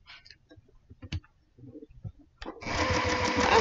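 A sewing machine stitches fabric in a fast, loud, continuous whir that starts partway through, after scattered small clicks and handling taps.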